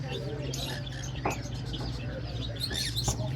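Rosella parrots and other pet birds at a bird dealer give a few short, scattered chirps and calls over a low background hum.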